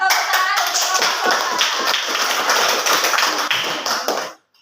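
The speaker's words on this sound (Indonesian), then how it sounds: "Tepuk tangan untuk kelompok" Applause from a classroom group of students for group Sopan, dense continuous clapping throughout at steady volume, cutting off abruptly near the end.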